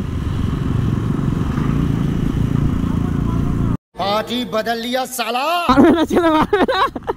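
Motorcycle exhausts during a group ride, a loud, steady engine drone heard from behind the bikes that cuts off abruptly and gives way to close talking.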